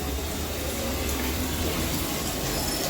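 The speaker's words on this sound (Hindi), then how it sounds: "मेरी बाल्टी भर गई" Water runs from a tap into a filling bucket, a steady, full gushing splash that holds evenly from start to finish.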